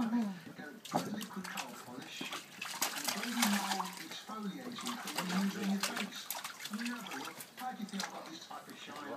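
An Irish Setter splashes and sloshes water around in a paddling pool, with irregular close splashing bursts throughout and a person talking over it.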